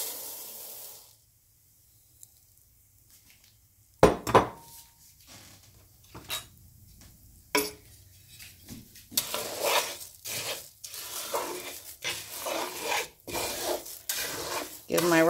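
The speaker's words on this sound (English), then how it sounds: "So to that, I'm going to add my rice." Raw rice tipped into hot oil in a pan and stirred while being browned for Mexican red rice, giving a soft rasping scrape and sizzling rustle that builds after a quiet start and grows denser toward the end.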